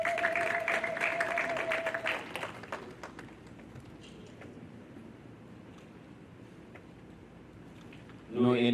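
A crowd gives a burst of applause for graduates at a Class of 2020 ceremony, the clapping lively for about two seconds and then thinning out to scattered faint claps before a voice speaks at the end.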